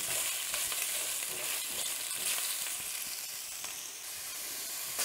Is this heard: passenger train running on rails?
no